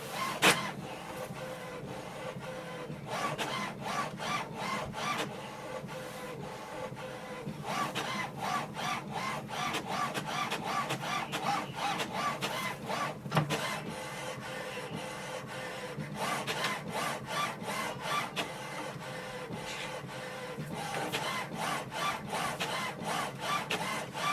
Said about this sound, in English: going to print the alignment page now.